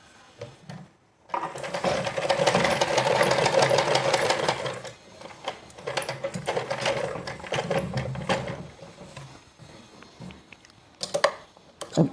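A sewing machine stitches buttons onto a kurti, running in steady whirring bursts with short pauses between them, close and fairly quiet, with no talking.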